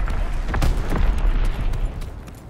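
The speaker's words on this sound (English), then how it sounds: "Sending mortar rounds." Mortar rounds explode in Call of Duty WWII: a heavy, rumbling boom that stays loud and sustained for about two seconds, with layered blasts, then fades.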